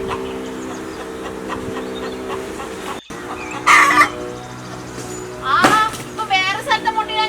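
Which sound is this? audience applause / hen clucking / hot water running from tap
hen clucking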